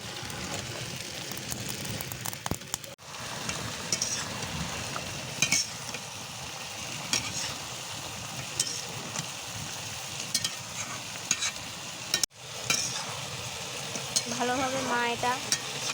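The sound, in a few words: stir-frying beef and potatoes with spices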